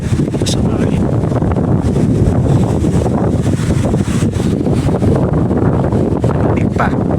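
Heavy, continuous wind buffeting a microphone outdoors on a cold, blustery day in Greece, loud and rumbling throughout, with brief bursts of someone talking under the gusts.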